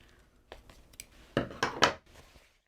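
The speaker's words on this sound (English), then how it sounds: "we just need to snip the thread that's holding the pieces together" Scissors snipping the sewing thread joining quilt fabric pieces, a few close, sharp metallic snips in quick succession, faint and quiet in between.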